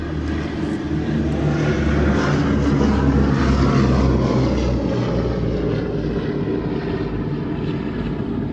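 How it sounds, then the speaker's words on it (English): B-17G Flying Fortress Sally B, a four-engine propeller bomber, rolling at RAF Mildenhall with a loud, steady deep engine drone and propeller roar that stays strong throughout. "here it is on the roll, and what a pleasure to see this again. B-17G Flying Fortress Sally B."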